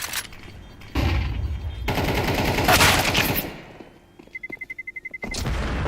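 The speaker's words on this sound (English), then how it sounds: "Flashbang." Gunfire and a flashbang grenade blast in Counter-Strike 2, loud bursts of shots and a bright bang followed by a rapid string of short regular clicks near the end.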